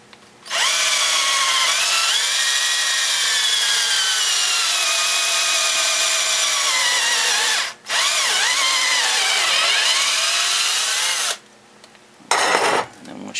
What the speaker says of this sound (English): you just pull the pin out and drill this side